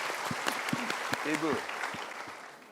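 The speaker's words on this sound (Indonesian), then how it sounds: "Untuk sementara kita berikan tepuk tangan Ibu Hartini." An audience claps for Ibu Hartini at a seminar, a moderate patter of applause running under a voice that speaks briefly over it.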